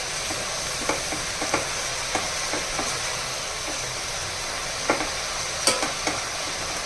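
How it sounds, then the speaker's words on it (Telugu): Coriander leaves fry in oil in a pan over a medium flame, a steady sizzle running throughout with occasional sharp clicks and scrapes as they are stirred. "చూడండి చక్కగా ఫ్రై అయిపోయిందండి ఆకు. ఆయిల్ చూసారా సెపరేట్ అయిపోయింది."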